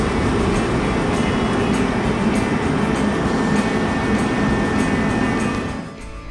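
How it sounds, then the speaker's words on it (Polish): Metro train cars rumbling continuously along an elevated viaduct in Chicago, a dense, loud roar that holds steady and then fades slightly at the end, with no talking. "Mamy wrażenie, że tutaj nie martwili się hałasem, jaki wywołują co chwilę jadące wagony."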